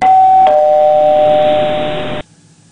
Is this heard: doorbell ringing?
yes